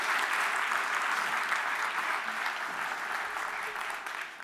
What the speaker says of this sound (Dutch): Jullie krijgen eerst even een hartelijk applaus natuurlijk.